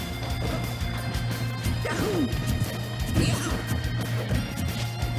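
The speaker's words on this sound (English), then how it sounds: "Turn around up smash, and there it is." Mario lands a turnaround up smash in Super Smash Bros. Melee during a grand finals match against Fox, a sharp crash and thwack of the hit among game effects and a steady crowd-and-music background.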